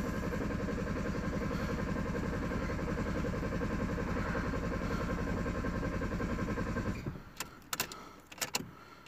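A Ford Mondeo with low fuel pressure cranks without starting, a steady rapid starter-motor churn for about seven seconds that cuts off abruptly, followed by quieter clicks and a few sharp knocks.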